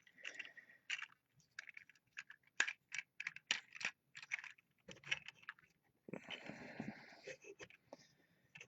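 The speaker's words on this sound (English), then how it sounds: "I am going to click these out to the next click" The plastic joints of a Transformers Combiner Wars Voyager Optimus Prime figure ratchet in a rapid series of sharp, close clicks. A longer stretch of scraping handling noise follows.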